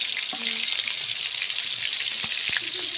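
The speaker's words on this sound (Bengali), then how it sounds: "মশলাগুলো দিয়ে ভালো করে কষাবো। দিব প্রথমে পেঁয়াজ বাটা দিয়ে দিলাম, তারপর রসুন বাটা," Onion paste and garlic paste fry in hot oil, giving a steady, close hiss of sizzling with a few faint clinks of a spoon against the pan.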